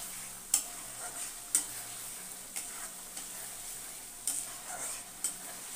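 Ground coriander and cumin being stirred into a Rohu fish curry (kalia) in a pan: a steady low sizzle with several distinct scraping clicks of the spoon against the pan, no talk.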